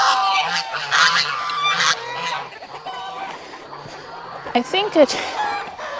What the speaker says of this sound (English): is a chicken stuck in the fence, or is this one just trying to?